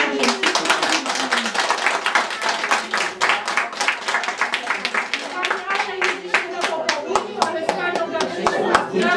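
An audience at a kindergarten ceremony claps for a teacher, many hands producing brisk, fairly close applause that carries on for several seconds, with voices talking over it.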